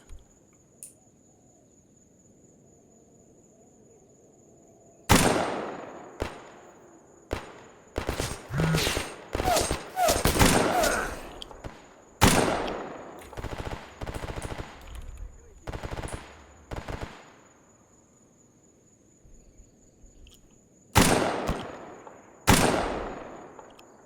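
Gunfire in the video game Escape From Pripyat: several bursts of rapid automatic shots and single cracks ring out after a quiet start, separated by short pauses, with a faint high insect-like hum in the background.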